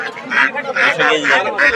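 Peking ducks at a rural poultry market give loud, close, nasal honking quacks in a rapid repeated series, about five calls in quick succession.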